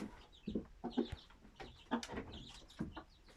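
A Hint breed rooster crows among farm fowl, a short series of faint, scratchy calls rising and falling at a distance in a quiet barnyard.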